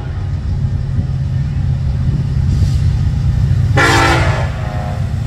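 A Union Pacific freight train rolls past on Maple Avenue with a low, steady rumble of wheels and cars, and a loud horn blast sounds near the middle before fading as the rumble carries on.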